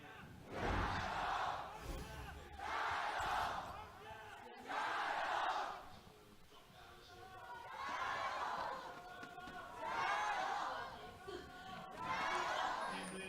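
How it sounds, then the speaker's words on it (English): Large esports arena crowd in Beijing at a League of Legends LPL match between RNG and FPX, roaring and chanting in repeated swelling waves of cheers, loud and reverberant, with no speech over it. "I'm going to give it over to the crowd."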